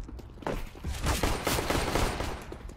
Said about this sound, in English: VKL does manage to find the shot on Electronic.